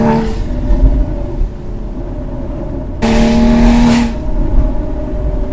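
A car with an FVD Stage 2 tune and new headers accelerates hard nearby, its engine note rising loud and steady, then surging again midway as it keeps pulling without a shift.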